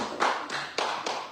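A short burst of applause in a church congregation, a few rhythmic clapping bursts close by, with no talking.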